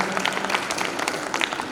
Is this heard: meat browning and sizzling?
no